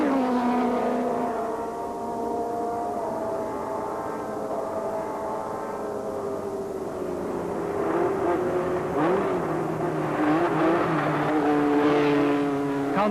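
Race cars in a motor race, led by the two front-runners, make a continuous loud engine drone whose pitch rises and falls as they speed past and shift.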